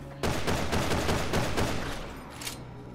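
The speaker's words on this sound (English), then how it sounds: "You could rapid fire when you switch the over the shoulder" Rapid gunfire from the video game Resident Evil 6, a dense continuous burst of loud shots lasting nearly three seconds with no talking over it.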